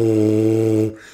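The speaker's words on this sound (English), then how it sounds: "on the mouthpiece, you can hear that air really start to open up and that sound open up" Lips buzzing into a tuba mouthpiece make one short, steady pitched buzz close up, lasting under a second before cutting off.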